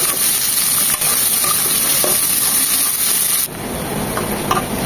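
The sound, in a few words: chopped onions frying in oil with whole spices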